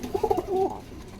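Pigeons cooing in a home loft, a short, close burst of soft throaty coos with no voices.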